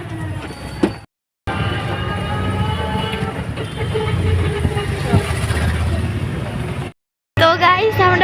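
A metro train running through a station, with a loud continuous rumble and rolling wheel noise close by, broken by brief cuts in the sound.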